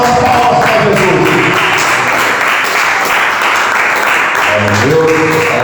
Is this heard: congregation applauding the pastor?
yes